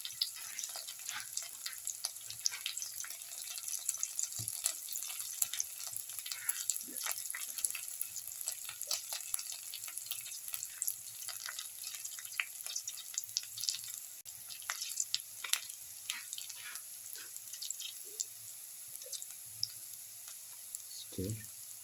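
Bottle gourd casserole with turmeric and chili powder, giving a soft continuous sizzle with scattered light clicks and scrapes from stirring, quiet and close, with no voices.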